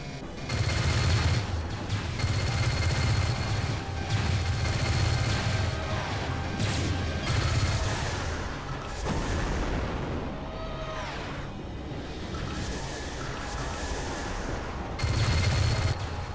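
Ship guns in the space combat game Starlancer fire in rapid, heavy bursts. A loud barrage at the start gives way to steadier fire and crashing impacts, then a fresh burst near the end.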